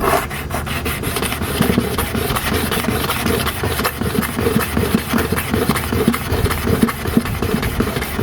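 A clipper blade is rubbed against a sharpening stone under light pressure, giving a steady rasping scrape in quick repeated strokes, close and continuous, with no one talking.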